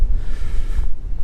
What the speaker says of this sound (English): It's getting very, very windy up here